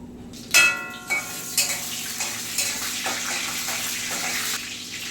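Bay leaf, whole cumin and green chilli tossed into hot mustard oil for tempering, a sharp burst of crackling sizzle followed by several smaller spits and stirring over a steady frying hiss.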